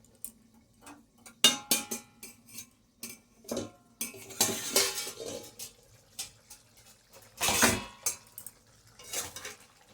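A lid comes off a pot of ridge gourd and prawn curry amid a cluster of close metallic clinks, taps and scrapes of cookware, irregular bursts over a near-silent background without speech.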